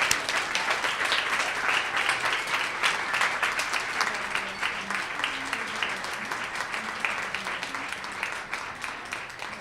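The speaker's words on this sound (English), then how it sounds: "If everyone would give a clap for Christine." An audience at the 2019 WINning Women Awards applauds for honoree Christine Verbeck, steady dense clapping that holds for the whole stretch and tapers slightly near the end.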